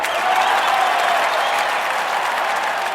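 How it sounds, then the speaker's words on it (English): Loud, sustained applause from a large audience at the sold-out musical Aviatrix, a dense steady wash of clapping with no break, filling the entire moment. "that is the massive applause that you are experiencing"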